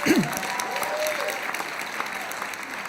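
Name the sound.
audience applause at a business briefing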